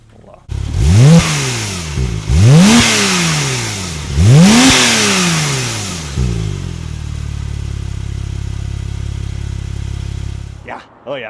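A 2017 Porsche 911 Turbo S Coupe with 42k miles, close up: three sharp throttle blips rise and fall over a few seconds, then the engine settles into a steady idle before it cuts off. No one speaks.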